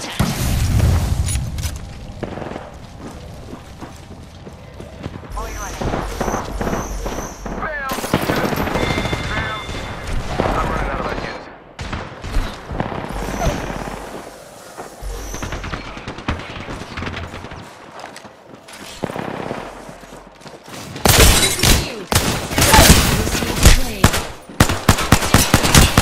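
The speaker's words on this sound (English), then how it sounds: "We are being shot at." Apex Legends gunfire, repeated bursts of automatic weapons and heavy booms in a firefight, loud and dense with brief lulls, with voices talking among the shots.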